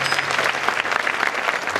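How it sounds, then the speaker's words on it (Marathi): Audience applause at a kirtan devotional gathering, a dense steady clatter of many hands clapping for the actors, loud and continuous throughout with no speech. "जोरदार टाळ्या झाल्या पाहिजेत त्यांच्यासाठी."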